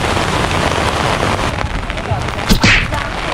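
Heavy rain hisses loudly and steadily, a dense roar of drops striking a surface, with a brief rustle or gust near the end.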